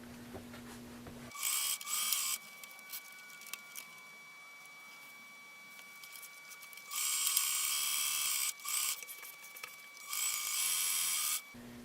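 A sewing machine stitching fabric for a simple tunic, running in several bursts of fast, whirring, buzzy stitching close to the microphone, separated by quiet pauses.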